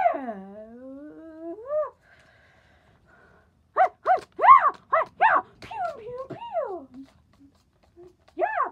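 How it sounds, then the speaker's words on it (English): A dog whimpers and yips in a rising, whining series of cries, several short bursts clustered together with pauses between, close and fairly loud. "doggy is coming."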